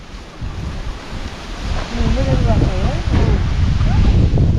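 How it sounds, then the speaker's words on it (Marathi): Strong stormy wind during a sudden storm in Konkan, blowing in loud, continuous gusts that roar against the microphone and build over the clip, with a faint voice briefly audible in the middle. "पहिल्यांदाच एवढं वारा विरा सुटलाय"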